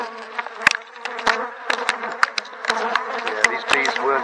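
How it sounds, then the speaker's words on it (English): Bees swarming around a disturbed Flow Hive buzz loudly and close, several insects droning at shifting pitches with sharp passes near the microphone, steady and without speech. "you'll end up with bees literally all over you"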